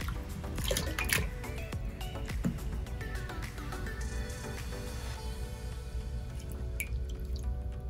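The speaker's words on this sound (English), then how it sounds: "you do want to give it another rinse to make sure you got all the soap out. So rinse it with clean water." Running water rinsing soap out of a synthetic lace front wig, a steady splashing and dripping flow with small gurgles and occasional drip accents, close and continuous without speech.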